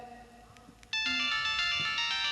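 A telephone ringtone starts abruptly and rings on loudly and steadily as a bright electronic tone at a school annual function stage play, following a brief faint voice and background murmur.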